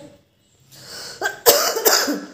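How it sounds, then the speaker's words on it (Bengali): A person coughs indoors, a short rough burst followed by two harder hacking coughs, close and loud with no speech. "কাশি আর সারছে না"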